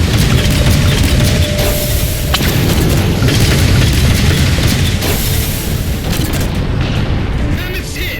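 A loud, sustained boom as a Mammoth vehicle takes a hit in the Halo 4 game, a dense roaring rumble with battle noise and scattered crackles running the whole way through.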